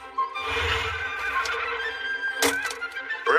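A horse neighs loudly and close in a dubbed anime farm scene, a long whinny that runs through most of the stretch, followed by brief sharp bursts near the end, with no talking.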